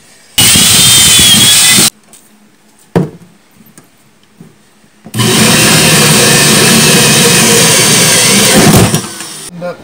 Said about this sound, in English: we have our friend the drill.